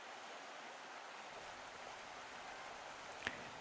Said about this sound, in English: The auditory atmosphere of the garden is created through the blissful, peaceful sound of moving water